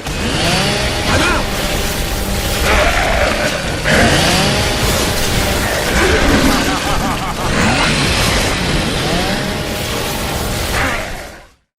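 A chainsaw weapon from a video game roars continuously and loudly, its engine revving up and down in repeated surges with grinding, crunching impacts mixed in.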